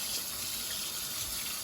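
Water runs steadily from a sink tap in a home kitchen, a continuous even gush heard alone at moderate volume.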